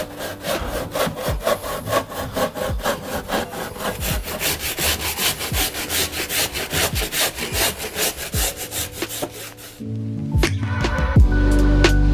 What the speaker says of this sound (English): I'm just going to run the saw.